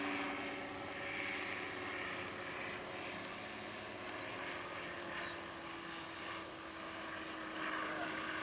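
Steady drone of a Kitfox light airplane's engine and propeller heard from inside during flight, constant and fairly loud, with faint voices talking underneath.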